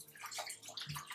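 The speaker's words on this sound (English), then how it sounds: "let me just wash my hands" Tap water runs steadily for hand washing in a home kitchen during cooking, a close, continuous splashing rush that lasts about a second.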